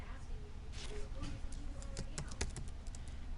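Quick, quiet keystrokes on a computer keyboard while a new document is named, coming in short bursts of light taps over faint background hiss.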